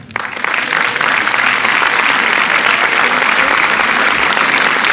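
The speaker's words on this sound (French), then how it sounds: "Monsieur Ludovic Bernard, sous vos applaudissements." A cinema audience at UGC Bercy claps loudly and steadily, a dense wall of applause that swells in quickly and holds.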